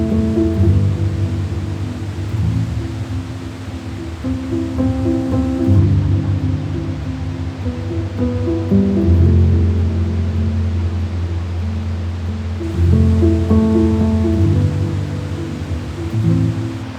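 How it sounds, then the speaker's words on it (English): A waterfall in wet, stormy Iceland roars as a dense, continuous rush of water, loud and steady from start to finish, with low rumbling layered beneath the broad hiss. "We're at Waterfalls now, the most incredible waterfall."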